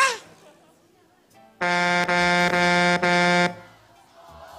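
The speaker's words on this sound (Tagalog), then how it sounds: "There's a horn." A loud, close air horn blasts in one long tone with brief dips, preceded and followed by quieter background noise.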